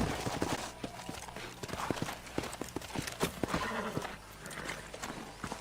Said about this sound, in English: Let's hold up a minute and find a spot for our horses.